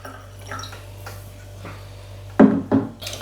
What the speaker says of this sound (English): Just going to pour it carefully.